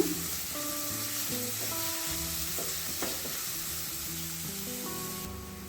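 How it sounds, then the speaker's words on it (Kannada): Onions sizzling steadily in a pan for a Mangalorean egg fry, a continuous hiss with a brief stir partway through, while faint background music plays and no one speaks. "ಚೆನ್ನಾಗಿ ಫ್ರೈ ಮಾಡ್ಕೊಳ್ಳೋಣ"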